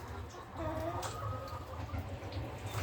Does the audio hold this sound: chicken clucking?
yes